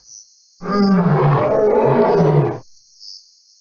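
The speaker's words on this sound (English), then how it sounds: "After a big meal, there's nothing better than a loud roar." A lion gives one loud, sustained roar lasting about two seconds, deep and rumbling, heard up close with quiet before and after.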